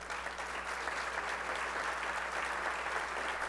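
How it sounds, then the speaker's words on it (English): Sustained applause from a seated conference audience at a business talk, a steady, even wash of many hands clapping together, fairly close and filling the whole moment without a break. "I think we owe all of these individuals a collective round of applause."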